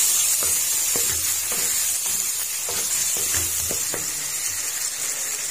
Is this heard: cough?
no